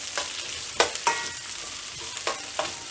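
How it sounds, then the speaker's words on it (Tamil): Garlic and onion frying in a pan, a soft steady sizzle broken by a few sharp stirring clicks and scrapes. "பூ பூண்டு வெங்காயம் ஆட் பண்ணிட்டு இது நல்லா ஃப்ரை பண்ணி வச்சிடலாம்."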